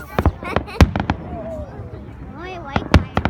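Canada Day fireworks in Steveston, Richmond burst in sharp, loud pops and cracks at irregular intervals, with people talking and exclaiming throughout.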